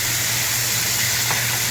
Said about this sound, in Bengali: তার জন্য মাছটা ভালো করে ভেজে নিয়ে এর মধ্যে দিয়ে দিচ্ছি সামান্য জল।